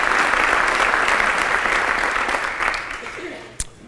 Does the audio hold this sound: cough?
no